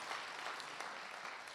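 An audience at a kavi sammelan poetry gathering in Jaipur applauds, a steady, fairly faint wash of clapping that fills the short moment from start to finish.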